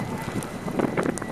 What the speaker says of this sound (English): here it's really windy